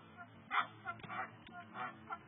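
A turkey gobbles in reply to a hand call, with several honking, rattling bursts in quick succession at close to moderate range and noticeable loudness.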